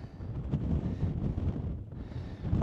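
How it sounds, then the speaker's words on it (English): Strong wind near a mountain summit buffets the microphone in loud, gusting rumbles that swell and ease, with no speech. "I think the wind has got even stronger."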